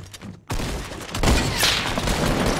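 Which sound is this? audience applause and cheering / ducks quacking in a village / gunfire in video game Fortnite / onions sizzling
gunfire in video game Fortnite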